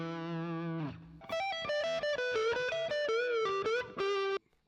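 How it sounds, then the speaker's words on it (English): Dirty, overdriven electric guitar playing a riff: a sustained distorted note slides down, then a run of quick melodic notes with bends, loud and alone, ending abruptly. "there's a real nice little dirty riff that sits behind everything here"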